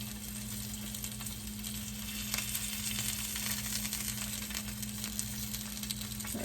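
Salmon sears in a frying pan, giving a continuous close sizzle with faint crackles and a low steady hum beneath, no voices.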